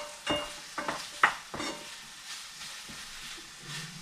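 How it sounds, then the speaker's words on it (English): A wooden spoon scrapes and knocks around a pan of frying onions, giving a few distinct close strokes over a soft, steady sizzle. "You have to use a different wooden spoon for cooking the onions"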